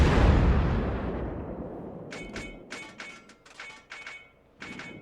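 A Hindenburg cruiser in World of Warships fires a booming gun salvo that rolls away into a long fading rumble, followed by a series of short high metallic clicks and ticks.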